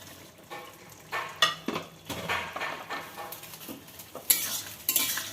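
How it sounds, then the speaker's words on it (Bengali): Mourala fish, fried beforehand, is stirred into a spicy potato curry, with a spoon scraping and clattering against the pot in irregular close strokes and a soft sizzle underneath. "এগুলো আমি ভালোভাবে নেড়ে দেবো যাতে সব ঝালটা এর মধ্যে লেগে যায়"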